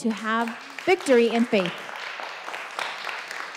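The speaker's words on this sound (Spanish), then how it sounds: "Buenísimo ese aplauso, los felicito." Scattered applause patters in the background at a church service as voices speak over it, with the clapping continuing softly after the talk fades.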